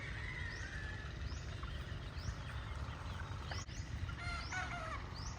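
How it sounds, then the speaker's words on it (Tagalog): Several faint rooster crows in the distance over a steady low rumble of outdoor background noise. "Yun, may tumilaok ulit doon."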